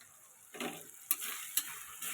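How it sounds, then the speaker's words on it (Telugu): Chili powder being stirred into a fish curry in a pan, a few soft scraping strokes over a quiet bubbling sizzle, with two small sharp clicks, close and fairly faint, no voices. "మూడు స్పూన్ల కారం వేసి బాగా కలపెట్టుకుంటున్నాను"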